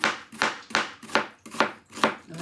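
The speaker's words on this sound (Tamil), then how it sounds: "மெல்லிசாக வெங்காயம் வெட்டணும்" A knife slices onion thinly on a board in six even, rhythmic chops, each a crisp close cut about half a second apart, alone without talk.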